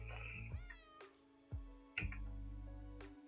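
A kitten meows repeatedly in a series of drawn-out, wavering cries, close and clear, with short gaps between calls and no talking.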